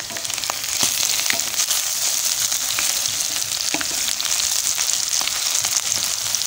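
Onions, potatoes and goat meat turned in a frying pan sizzle with a steady bright hiss, broken by frequent small pops and scraping clicks as the food is moved, close and continuous throughout.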